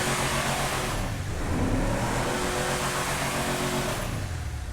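The Vapid Guardian truck in GTA Online runs with a loud, continuous engine roar that swells slightly as it revs, heard up close and steady throughout without speech.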